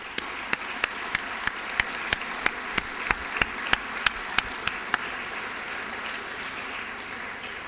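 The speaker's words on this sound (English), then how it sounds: "I think you deserve an applause" Applause for graduates at an insurance and risk master's graduation ceremony, heard as a thin, rhythmic run of sharp, evenly spaced claps over a soft background of scattered clapping.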